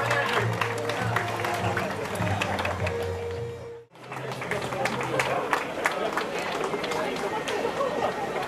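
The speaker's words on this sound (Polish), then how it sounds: "Brawa dla naszego wspaniałego mastersa" Steady applause from a crowd at a podium ceremony for the masters category winner of a cycling race, dense clapping throughout with an announcer talking over it.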